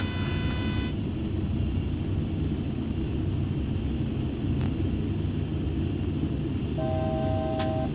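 A steady electronic tone sounds inside a Boeing 737 flight simulator as the altitude alert warning, heard near its end over constant loud engine and cockpit rumble.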